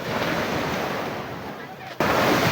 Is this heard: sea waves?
yes